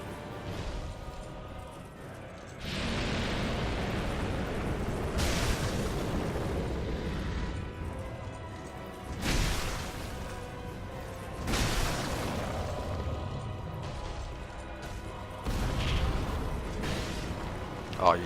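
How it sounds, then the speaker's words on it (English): Fire breath attack in Dark Souls II, long roaring bursts of flame rising and fading in several waves over a low rumble, loud and sustained, with a voice speaking in between. "Breathe fire."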